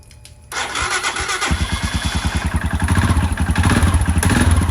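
A Royal Enfield Himalayan motorcycle, just fitted with a new battery, cranks and fires up, then settles into a loud, close, rapid thumping idle.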